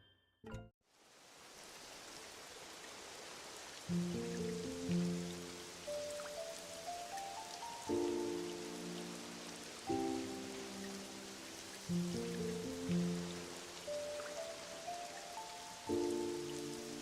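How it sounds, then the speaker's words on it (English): Steady rain hiss falls in a Pokemon video game, a constant wash that runs under a repeating melodic game music loop throughout, with no talking. "It's raining right now."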